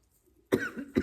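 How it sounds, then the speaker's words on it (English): Two short, close coughs follow a moment of near silence, the second coming right after the first. "Hold on just a second, I'm gonna have to cough"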